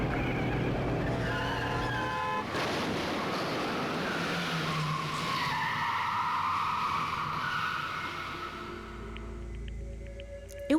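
Tires screech and skid in a car crash from a Danganronpa: Trigger Happy Havoc cutscene, a long loud squeal over roaring vehicle noise that swells midway and ends with a sharp hit, with no talking.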